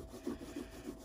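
Stropping compound being rubbed onto a knife strop, heard as a brief, faint run of soft rhythmic rubbing strokes close by.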